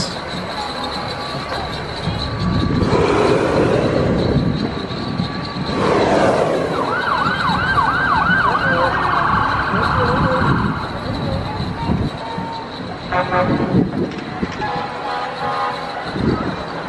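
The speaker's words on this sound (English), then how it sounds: "I hear police sirens." A police siren wails at a Christmas parade in Franklin, North Carolina, its rising and falling tone standing out for a few seconds amid crowd noise and nearby talking.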